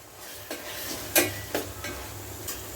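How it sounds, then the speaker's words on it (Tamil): Sliced tomatoes go into a hot pot for a Kerala-style Malabar beef biryani, giving a soft steady sizzle with a few sharp clinks and stirring scrapes, close and fairly quiet. "தக்காளி ஒரு 150 கிராம் சேர்த்துக்கிறேன்."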